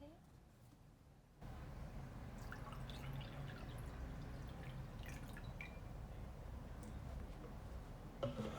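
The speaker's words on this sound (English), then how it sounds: "Just listen to the sound of water" Water drips and trickles steadily through a broad wash of noise, with small irregular droplet ticks scattered across the clip; a softer quiet stretch opens before the flow begins, in a candle wax and tarot setting.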